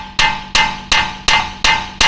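Six hard hammer blows on a front end part of a Mercedes 240D under repair, struck at a steady rhythm about every third of a second, each a loud metallic ring that decays before the next, with no talk.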